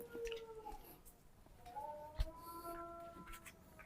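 A dog howls and barks at a house under repair, its drawn-out wavering cries rising and falling at moderate distance across several seconds.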